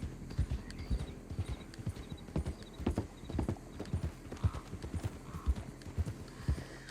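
Horse hooves clip-clop in a quick, steady rhythm in the video game Red Dead Redemption 2, close and clear, with a faint whinny and no speech over it.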